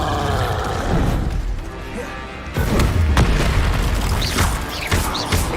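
Spell blasts in the Hogwarts Legacy video game: a Confringo fire spell bursts with a loud booming explosion, and a second heavy crash follows midway, over a dense, continuous background of battle noise.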